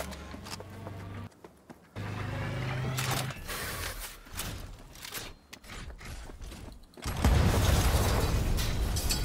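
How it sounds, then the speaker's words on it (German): A gas explosion goes off in the video game Cyberpunk 2077, a loud roaring burst near the end that follows a stretch of mechanical clatter and impacts. "der hat den Gas daneben jetzt zur Explosion gebracht"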